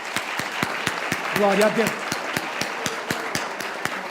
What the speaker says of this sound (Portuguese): Um aplauso para o Senhor.